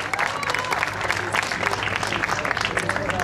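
Crowd applause for a young Castrol Ford Team Türkiye rally crew in a Ford Fiesta R2 at the 2015 Aegean Rally, steady dense clapping throughout with voices mixed in.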